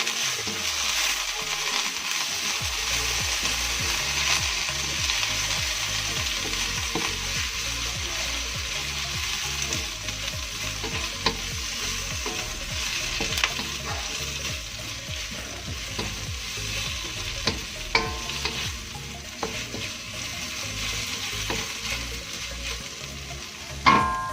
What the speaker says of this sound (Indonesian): Setelah kita masukkan minyak, kemudian kita aduk